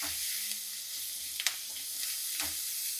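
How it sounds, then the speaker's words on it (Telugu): Onions fry in tempering oil with a steady low sizzle and hiss. Soft stirring clinks and scrapes come and go over it, and no one speaks. "ఉల్లిపాయలు కాస్త ఎర్రగా కాలితే బాగుంటుంది."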